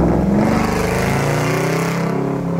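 A Chevrolet Camaro V8 engine revs hard and loud up close, its deep, dense roar holding steady with rising harmonics for a few seconds and nothing else heard over it.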